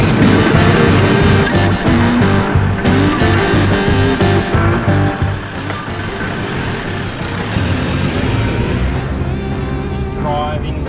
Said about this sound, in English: Driving with my tyre that has been Band-Aid fixed.